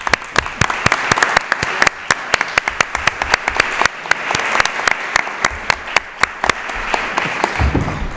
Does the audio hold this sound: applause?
yes